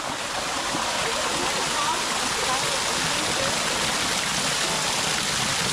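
A waterfall pours into the cool pool at a Costa Rica hot springs, a loud, steady, close rush of falling water that holds unbroken throughout.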